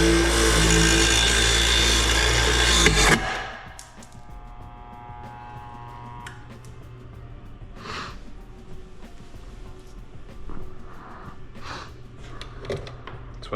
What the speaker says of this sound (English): I'm just gonna clean them up on the bench grinder a little bit